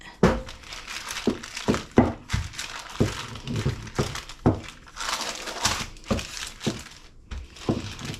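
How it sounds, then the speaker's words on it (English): Plastic wrap crinkles and crackles in repeated bursts as pie pastry is squished under it, with irregular close rustles and soft thuds. "So get the plastic in, squish it."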